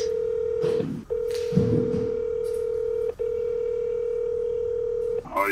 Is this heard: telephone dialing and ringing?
yes